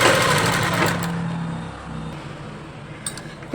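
A sewing machine stitching a blouse, a close fast mechanical whirr of needle and motor for about two seconds, then slowing to a stop with a few light clicks afterward.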